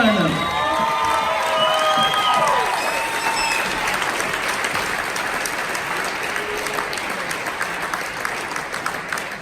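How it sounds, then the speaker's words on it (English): A crowd at a Quest for Excellence awards program for a senior living division breaks into loud applause with whoops and shouted cheers at the start, then settles into steady sustained clapping that slowly eases off. "Let's give a big round of applause to Lisa Tetrix Region."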